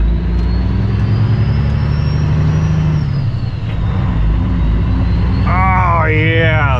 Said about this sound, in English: Off we go. A van trailer in tow.